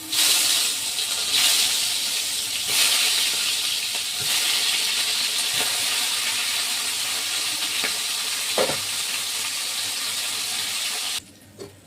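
Pieces of katla fish fry in hot oil in a pan, a steady loud spattering hiss that runs for most of the clip with a few sharper crackles, then drops away at the end, with no talking.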